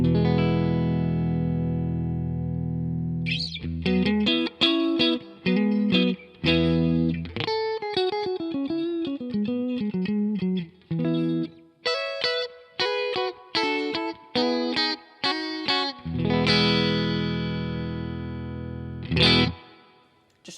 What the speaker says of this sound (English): It's the Two-Rock custom reverb signature,